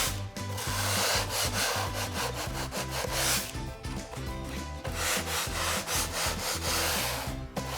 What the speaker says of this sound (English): So just a quick sand to remove any excess oil.